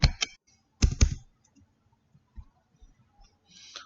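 Sparse clicks and a few quick keystrokes on a computer keyboard, with short bursts separated by near silence, close and fairly quiet.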